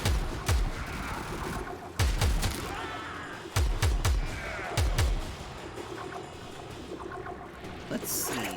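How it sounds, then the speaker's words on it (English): Warframe gun firing bullets that arc and then explode, heard as four or five evenly spaced bursts of sharp reports with rumbling blasts, a faint voice running underneath. "This gun's kind of nifty. Its bullets like arc and then explode."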